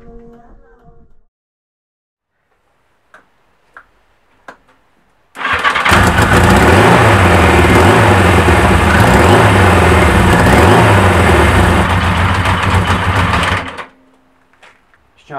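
A 1987 Yamaha XJ900 motorcycle engine cranks and fires up loudly after a few faint clicks, then settles into a steady, rumbling idle for several seconds before cutting off abruptly.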